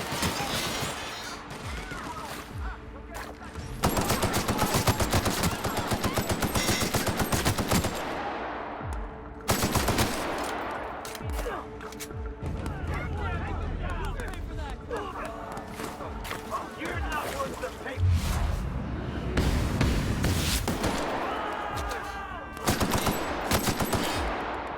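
Video game gunfire rattles in dense, loud automatic bursts with crashes and impacts in between, and the barrage keeps going almost without pause.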